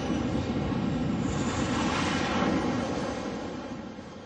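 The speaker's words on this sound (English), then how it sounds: "Di Gennaro's maneuvers must be exact as he guides the speeding plane towards the flight deck." Jet plane approaching and landing on an aircraft carrier flight deck, hooking an arresting wire on a runway about 245 meters long: a loud, steady broadband engine roar that swells slightly midway and then gradually fades.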